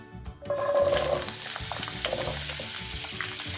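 Bell pepper, zucchini and onion hit three tablespoons of hot oil in a pan for a veg lasagna, and a loud, close sizzle bursts up and then holds steady with light stirring.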